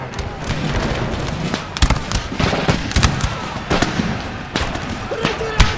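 Musket volleys from line infantry in an Empire Total War battle against Spanish troops crack out in irregular bursts over a constant roar of battle ambience, with sharp booming shots near 2, 3 and 4.5 seconds.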